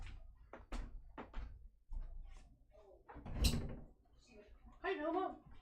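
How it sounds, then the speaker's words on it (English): Dogs knock and scratch at a closed door indoors, irregular thumps and rattles, with a person talking over them. "They're knocking on my door."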